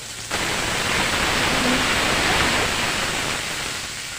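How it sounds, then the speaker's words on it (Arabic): Water from a mug pours into a pan of liver and gizzards, a steady broad splashing rush that starts abruptly and holds loud and even for about four seconds with no talk. "احط عليها مج من الميه"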